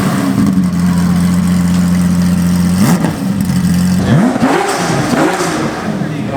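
Lamborghini Diablo GTR with a full cage fires up close by, settling into a steady idle before several sharp blips of the throttle, with people talking over the engine.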